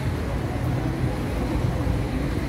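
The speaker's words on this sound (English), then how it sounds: "there's a lot more traffic going on here" Busy city street traffic in Chania, Crete: a steady, dense low rumble of passing vehicles, close and continuous, with faint voices mixed in.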